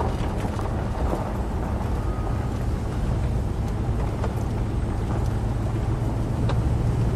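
A 1968 Imperial Crown convertible rolls along a gravel road, a steady low rumble of tires and engine with constant wind buffeting throughout, no voices.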